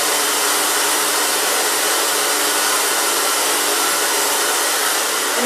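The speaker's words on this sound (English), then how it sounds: "I'm going to take my big round brush and dry it with the round brush." Hair dryer blowing steadily at close range while hair is dried with a big round brush, a loud, constant whooshing roar with no breaks.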